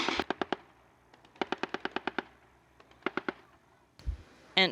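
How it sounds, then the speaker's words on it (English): A 30mm grenade launcher fires during a military equipment demonstration at ARMY-2022, producing rapid bursts of sharp, muffled discharges in three quick volleys, followed by a couple of heavier distant thumps. "Now you can hear the muffled sounds of discharges. This is the work of the 30mm grenade launcher."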